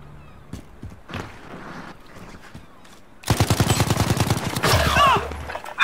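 Gunfire in the tactical shooter Ready or Not: a few scattered clicks and thumps, then a loud, rapid burst of automatic shots rattling in a dense stream for the last couple of seconds. Close and sharp, with no talking.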